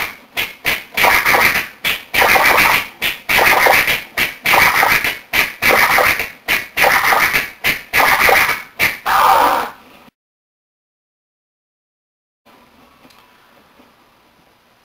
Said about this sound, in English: like the military scratch, where you're basically utilizing the same record movement technique